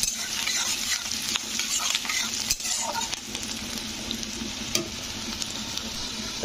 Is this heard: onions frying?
yes